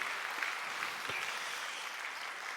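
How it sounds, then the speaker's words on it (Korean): A church congregation claps together in a warm, continuous round of applause, steady and moderately loud, with no speech over it. "그것도 한번 박수로 격려하겠습니다"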